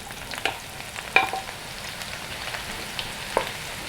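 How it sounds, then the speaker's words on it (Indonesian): Tempeh fries in hot oil with a steady soft sizzle, punctuated by a few sharper pops and crackles, close by and without any talking. "Sekarang tempenya kita goreng juga."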